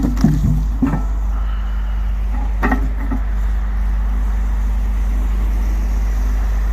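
A triaxle log truck moves around a woodyard, its diesel engine producing a steady low rumble throughout, with a few short clanks and knocks near the start.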